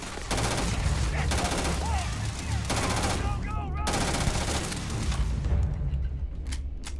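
Rapid bursts of weapon fire from a Starfield gunfight, loud and continuous for several seconds and alone without speech, thinning out toward the end.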